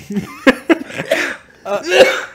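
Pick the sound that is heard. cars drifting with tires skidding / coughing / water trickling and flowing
coughing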